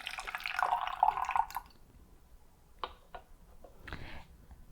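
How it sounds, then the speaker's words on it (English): Tea liquid pours from a small gongfu teapot into a glass server, a close, bright trickle for about a second and a half, followed by a few sparse drips and soft clinks in near silence. "then I'll halt the steep time by pouring the liquid out"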